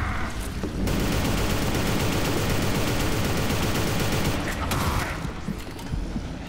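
Dense, sustained gunfire from the shooter game Inversion rattles on for several seconds as a loud, continuous fusillade with no voices.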